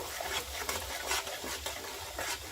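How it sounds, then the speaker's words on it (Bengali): Fried spice mix and five-spice seeds being stirred in hot oil for mango pickle, a soft steady sizzle with brief scraping strokes of a spoon, fairly quiet and close. "এরপরে দিয়ে দিচ্ছি ভেজে রাখা মশলাটা দিয়ে নাড়াচাড়া করব।"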